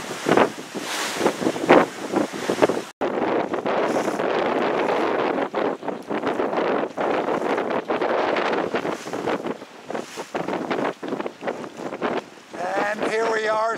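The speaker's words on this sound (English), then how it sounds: "We're out on San Francisco Bay on a glorious day." A sailboat is out on San Francisco Bay, with strong wind buffeting the microphone over the rush and slap of water. Brief voices sound near the start.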